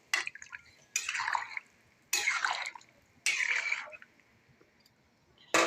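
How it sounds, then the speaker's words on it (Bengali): Water is poured into a pan of potatoes frying in hot oil, giving four loud hissing, sputtering bursts about a second apart, each fading off, close by with no talk. "এখন জল দিয়ে দেবো।"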